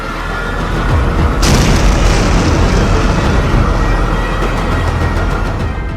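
A sudden loud bomb blast in Turkey bursts in after a rumbling stretch, followed by a sustained roaring wash of noise that stays heavy for several seconds.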